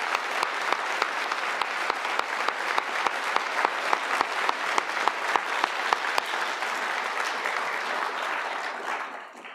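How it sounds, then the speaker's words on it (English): Students at a school Veterans Day assembly give the veterans a round of applause, a dense, steady, loud clapping from a large crowd sustained for several seconds with crisp individual claps on top before it tapers off at the end. "let's just give our veterans one more round of applause"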